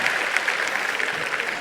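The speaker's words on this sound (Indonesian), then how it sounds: "Tapi tepuk tangan dulu dong untuk mas ini" An audience claps together in a dense, steady burst of applause, loud and close, with no voices rising above it.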